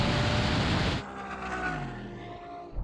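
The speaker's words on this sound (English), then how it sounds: "Ferrari, you did all right there. You got a good launch. Absolutely, this thing shot off the line." A Ferrari GTC4 and an Aston Martin DBS pass in a drag race with a loud, close engine roar that cuts off sharply after a second, followed by a fainter fading drone of the cars moving away.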